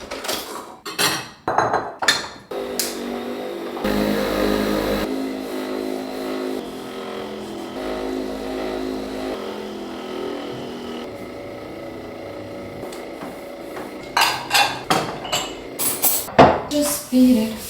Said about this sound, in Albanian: Do i bëj edhe një pastrim makinës të kafes.